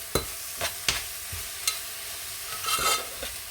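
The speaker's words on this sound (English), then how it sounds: "You're going to mix it up well." Carrots tossed with pickle masala for a homemade carrot pickle, heard as a few sharp spoon-on-bowl clinks and scraping stirs with a brief rustling mix near the end, close and fairly quiet, with no talking.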